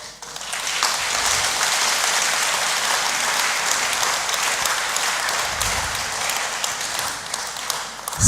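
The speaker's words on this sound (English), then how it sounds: "So with another round of applause, please let's welcome Her Excellency Professor Nana Jane Opoku-Agyeman to the podium." Sustained applause from a conference audience at Ghana's annual New Year School, a broad, even roar of many hands clapping for about eight seconds, fairly loud and without speech.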